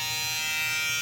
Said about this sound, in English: FX3 is a great shaver.